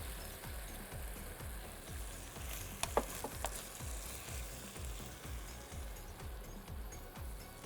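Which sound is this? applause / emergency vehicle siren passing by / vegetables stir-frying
vegetables stir-frying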